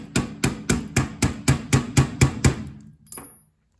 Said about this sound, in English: my hammer now and just pop that little pin out